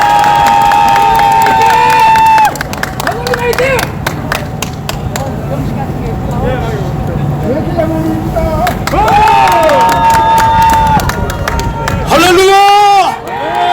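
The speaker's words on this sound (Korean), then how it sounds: "박수 한번 보내주세요." A large outdoor crowd at a Korean political rally calling for a candidate merger cheers and applauds between speakers, loud and continuous, with shouting voices, tonal music or chant sounds rising and falling, and a burst of high squealing near the end.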